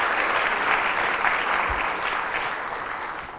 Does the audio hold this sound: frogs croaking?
no